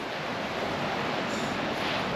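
Steady roar of Black Sea surf washing in continuously below cliffs, broad and fairly loud, with a faint wind hiss and no voices.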